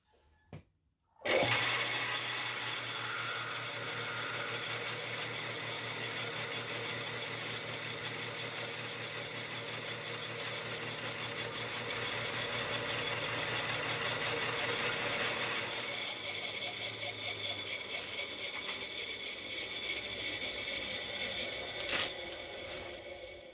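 A new milling machine makes a cut, starting after a short silence with a sustained whine and steady grinding hum, then the tone shifts and lightens partway through before continuing to the end.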